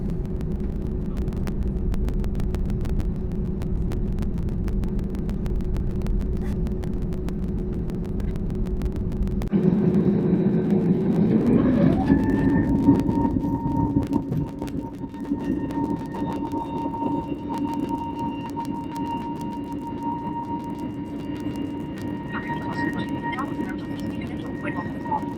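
A British Airways Airbus A320neo spools up for takeoff from runway 22, its steady cabin drone giving way to a rising engine whine that settles into a sustained tone, heard from inside with a voice briefly present.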